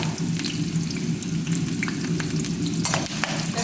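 Mustard seeds, onion, green chilli and garlic sizzle and crackle in hot oil as tempering for bottle gourd curry, with a steady close frying hiss and scattered pops.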